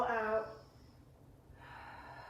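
Deep breath let out during a yoga class's closing breathing, a soft airy exhale with a brief voiced start, fading into quiet room tone.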